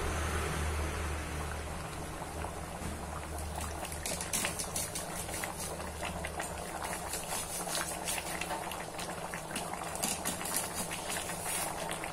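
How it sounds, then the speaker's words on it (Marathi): Masala chole curry simmering in a pot, a steady close bubbling and hiss of boiling liquid that carries on without pause, with a low hum underneath. "आणि छान उकळू द्यायचं याला."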